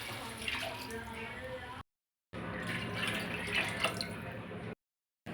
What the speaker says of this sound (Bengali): আমরা জল দিয়ে দেবো পরিমাণ মতন।